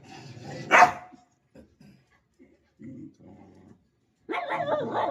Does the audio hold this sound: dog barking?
yes